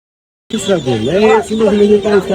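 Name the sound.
chickens clucking at poultry market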